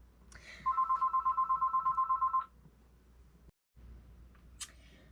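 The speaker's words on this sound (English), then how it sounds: "you can hear my house phone here" A house telephone rings with a steady trilling bell burst lasting about two seconds, fairly close and clear, followed by quiet room noise and a faint click.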